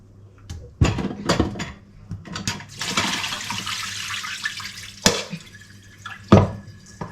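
Water drains from frozen food as it thaws in a sink: splashy gushes and scattered drips with a brief steady pour in the middle, loud and close, with no talking.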